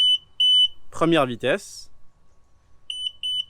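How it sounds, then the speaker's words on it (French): A Tesla Model 3's automatic frunk emits bright, evenly spaced electronic beeps in groups of three while its opening speed is being set, separated by someone speaking briefly in French. "pour la vitesse, on reste appuyé et on va entendre plusieurs bips"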